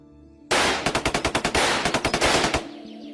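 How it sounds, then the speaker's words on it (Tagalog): Rapid machine-gun fire in a Filipino aswang horror audio drama: a loud sudden burst of about twenty sharp shots in quick rhythm, then a fading echoing tail. "binabaril ko ang mga aswang na nakikita ko"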